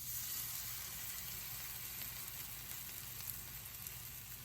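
Oatmeal and almond pancake batter sizzles steadily in a hot pan, a continuous close frying hiss with faint crackles and no talk.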